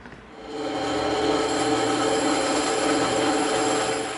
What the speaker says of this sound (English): now we're going to take this over to the bandsaw and we're going to rip it out on the bandsaw